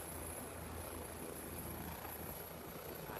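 Helicopter with its engine running, a steady low rotor and turbine drone heard faintly and continuously at a distance, with no talk.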